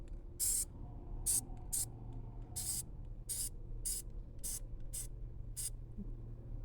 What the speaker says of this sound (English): Spray it on everything.